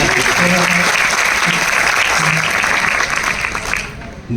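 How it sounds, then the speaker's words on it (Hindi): Loud, dense applause from an audience at a ghazal poetry recital in Lucknow, sustained throughout, easing slightly at the end, with faint voices mixed in. "एक बार जो है तालियां बजाइए भाई"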